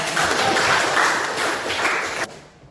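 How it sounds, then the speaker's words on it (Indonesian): Applause for a student named Sundaban during a class discussion session, a brief burst of group clapping that holds steadily for about two seconds and then cuts off abruptly. "Tepuk tangan untuk Sundaban."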